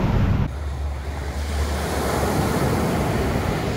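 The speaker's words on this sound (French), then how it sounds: "Je viens de trouver d'où viennent les vagues." Ocean surf breaking along the shore at San José del Cabo, Mexico: a continuous, loud wash of waves with a deep low rumble and some wind buffeting the microphone.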